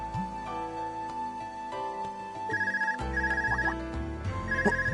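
A telephone rings in the video game Legend of Heroes: Trails of Cold Steel, with repeated electronic trilling bursts over a sustained background music track, clear and steady with no talking.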